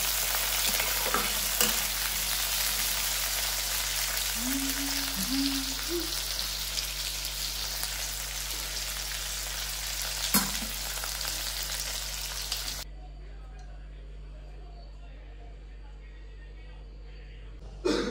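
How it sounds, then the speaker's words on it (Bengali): Whole spices fry lightly in a pan for a prawn curry, a continuous crackling sizzle that runs for about thirteen seconds before dropping away to a quiet hum, with a brief faint voice early on. "এই গোটা গোটা মশলাকে হালকা করে ফ্রাই করব"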